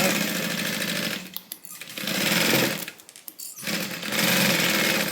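A sewing machine stitches a divider bag in three fast, loud runs separated by brief pauses, the rapid needle clatter close and steady during each burst.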